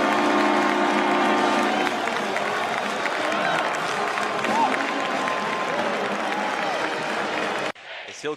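A crowd at a Michigan State college basketball game rises in loud, steady cheering and applause that fills the arena, then cuts off abruptly near the end.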